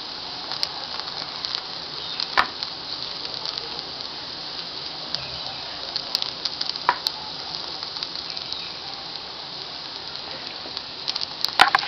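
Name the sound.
thalipeeth flatbread frying in oil in a pan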